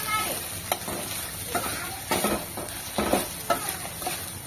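Okra frying in a pan is stirred, with steady sizzling underneath and several scraping strokes of the spoon coming through clearly, close up and without voices.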